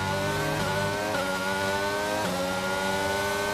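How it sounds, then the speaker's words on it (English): A Red Bull Formula 1 car in the F1 22 video game, racing in Brazil, gives a loud, continuous high-pitched engine whine, its pitch climbing and dropping sharply through quick gear shifts. "We're close enough to Perez now that we can hear the unique engine note of the Red Bull."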